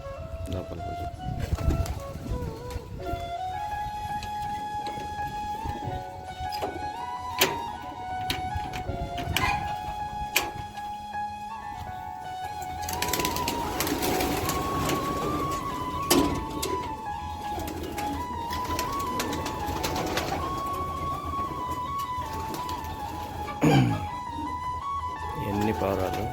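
Many pigeons coo and flutter on a farm in Kuwait, with soft repeated calls heard close while people talk over them.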